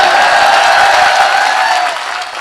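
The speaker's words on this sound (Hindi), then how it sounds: "बजाओ एक बार ताली बजाओ" Steady audience applause at a Hindi poetry recital, a dense, even wash of many hands clapping that carries on throughout and eases off slightly toward the end.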